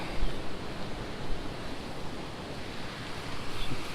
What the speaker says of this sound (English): Stunning little waterfall.